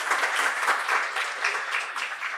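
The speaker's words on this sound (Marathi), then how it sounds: "एकदा जोरदार टाळ्या झाल्या पाहिजे" An audience at a literature festival poetry workshop claps continuously for the poet, a dense, even wash of applause throughout.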